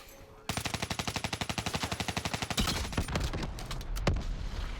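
Rapid automatic gunfire in a video game capture-the-flag match, a long fast burst of evenly spaced shots up close, followed by scattered heavier blasts and rumbling action.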